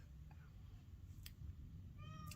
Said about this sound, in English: It's my cat, Tommy.